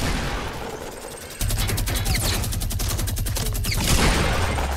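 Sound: machine gun turret firing, from video game Fortnite

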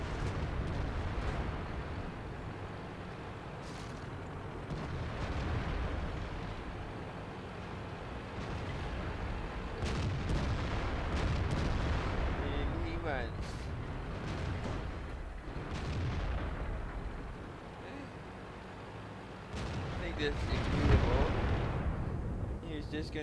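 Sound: tank cannon fire in a tank battle video game

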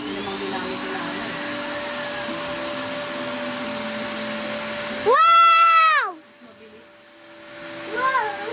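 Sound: vacuum cleaner running, used for an inflatable pool

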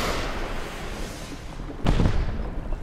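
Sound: rocket fired at an enemy tank

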